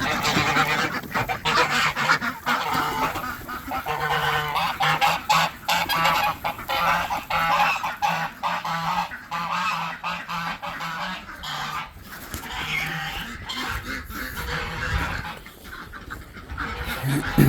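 Geese honk repeatedly in a backyard flock alongside ducks and chickens at feeding time, a busy, overlapping chorus of loud, close calls in uneven bursts.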